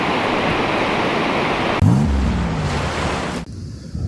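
Ocean surf roars in a steady, loud wash during a morning surf session on a typhoon swell in Japan. Heavy wind buffets the microphone throughout, with a sudden jolt midway.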